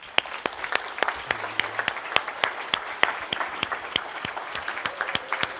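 Conference audience applauding at close range, a steady stream of sharp, dense hand claps that holds for the whole stretch, with no talk over it.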